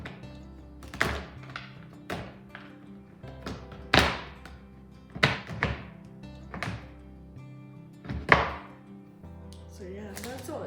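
A knife chops roughly through a chocolate bar on a board, giving about ten sharp, uneven thunks spaced irregularly. Each strike is close and crisp, and a brief rustle follows at the end.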